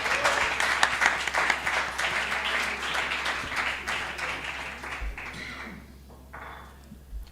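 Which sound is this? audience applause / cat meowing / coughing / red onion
audience applause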